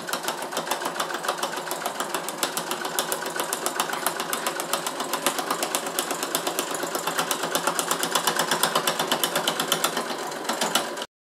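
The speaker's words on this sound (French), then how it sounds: "je fais donc ma surpiqûre" A sewing machine runs one long topstitching seam along a fabric pouch, its needle hammering in a fast, even mechanical rhythm that speeds up slightly. It stops abruptly at the end.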